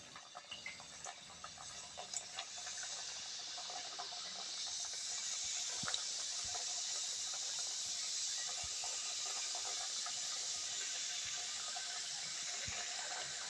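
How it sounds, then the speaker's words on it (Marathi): Kapnya, sweet snacks, deep-frying in hot oil give off a steady, soft bubbling sizzle that builds and holds throughout, with faint pops and no voices. "झालेलं आहे, तर आपण कापणी तळून घेऊया."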